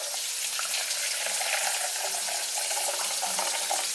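Boiling water pours steadily into a container holding lip gloss tubes, a continuous splashing hiss without pauses.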